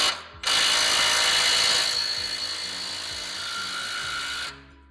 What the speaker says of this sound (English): Let's see if my impact can back this out.